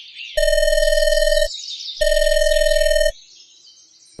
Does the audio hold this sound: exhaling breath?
no